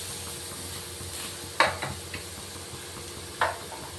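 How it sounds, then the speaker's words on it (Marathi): Tomatoes and green chillies roasting in hot oil in a pan, a steady soft sizzle with two sharp scraping stirs of a utensil against the metal. "त्यातच मिरची पण हलकीशी भाजून घ्यायची।"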